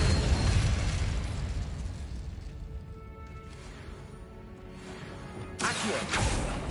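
An Incendio fire spell goes off in Hogwarts Legacy, a loud whooshing burst of flame with rumbling blasts, fading in the middle before a second bright crackling burst near the end.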